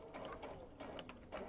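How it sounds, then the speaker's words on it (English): A sewing machine stitches slowly around a corner of a minky fabric slipper, making a soft, steady mechanical whir and clatter at low volume with no one speaking. "I'm just going to sew around this corner nice and slow."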